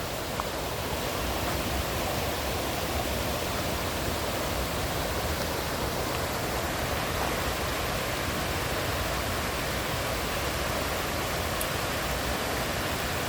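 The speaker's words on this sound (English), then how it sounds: "Man, look at that waterfall." A waterfall at the TVA bridge gives a steady, dense rush of falling water that holds even and unbroken throughout. It sounds fairly close and is heard alone.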